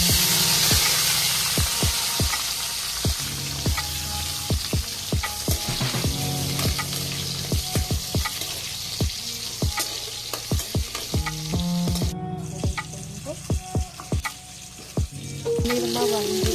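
Garlic and dried red chillies fry in hot oil in a pan, a loud steady sizzle with frequent clicks and scrapes of stirring, and a short pause near the end.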